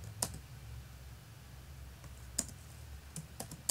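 Sparse keystrokes on a computer keyboard while Java code is written in NetBeans, a few isolated sharp clicks and short pairs spaced irregularly over a faint room hum, with no talking.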